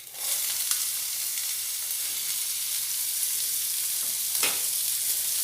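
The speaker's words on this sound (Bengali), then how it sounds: "দিয়ে একটু ভালোভাবে এই পেঁয়াজ আর চেরা কাঁচা লঙ্কাটা ফোড়নের সাথে ভেজে নেব।" Chopped onion and slit green chili fry in a spiced tempering, giving a steady, close sizzle with soft hissing and an occasional stir scraping through.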